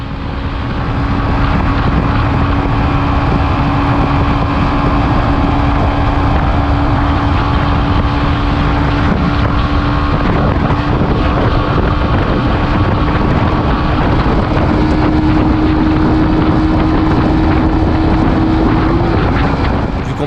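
Yamaha 125cc motorcycles riding at speed on a motorway: a loud, steady engine drone under heavy wind rush, with the engine note climbing slightly near the end.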